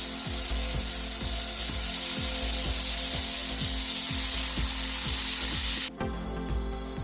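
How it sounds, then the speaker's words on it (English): Sandpaper rubbed back and forth across a small model disc brake, a steady rhythmic scraping of regular strokes, close and fairly loud, ending with a brief shift in tone near the end. "I'll take another edge and make some sanding once again."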